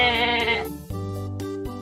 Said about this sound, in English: Goat provides milk and meat.